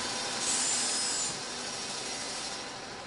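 A moving saw in the LIMBO video game grinds with a continuous raspy, wood-like sawing noise, loud and steady throughout with a slight swell early on.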